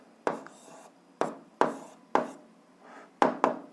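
A pen writing on paper during an 8th-grade algebra exercise makes several distinct scratchy strokes in quick irregular bursts, close and fairly quiet, with no talk over them.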